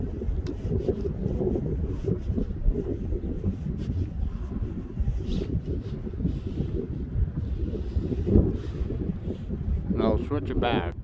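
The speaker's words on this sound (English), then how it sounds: "it's real windy, holy. Just the wind is brutal." Strong, gusty wind buffets the microphone along a river on an outdoor walk, a loud continuous roar with rumbling surges, and a person talks briefly near the end.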